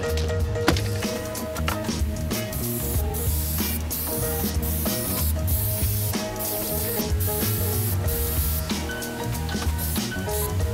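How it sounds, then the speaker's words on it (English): Super 77 spray adhesive hisses steadily and loudly from a can onto a homemade window shade for a van or car, a continuous close spray with slight rubbing sounds underneath. "use some of this, what is this? Super 77 spray foam or spray glue and spray the inside of it"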